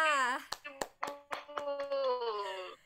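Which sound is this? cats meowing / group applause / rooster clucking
group applause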